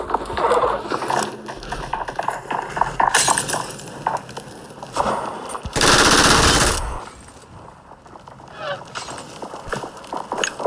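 Automatic fire from an MG3 machine gun in the PUBG Mobile battle royale game, loud bursts with a sustained dense stretch mid-clip amid other gunfire and clinks.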